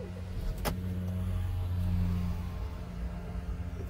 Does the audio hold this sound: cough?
no